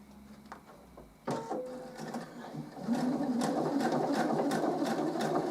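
Sewing machine stitching a reusable washing up sponge: a few isolated clicks, then the motor starts and runs in a steady, close whirring chatter of rapid needle strokes that builds and holds to the end.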